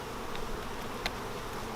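Honeybees hum in a dense, steady drone in front of a crowded hive that may be preparing to swarm, with no voices and only a faint click or two over the buzz.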